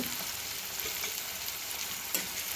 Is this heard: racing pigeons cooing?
no